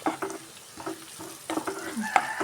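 Onions sauté in a pan with uneven bursts of sizzling and several spatula stirs that scrape and clatter. A faint sizzle carries on between the stirs.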